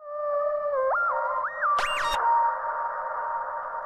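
Serum preset notes layered over a sustained lead synth line that steps between pitches, with a brief bright sweeping zap cutting in midway; the layered tones are steady, close and alone.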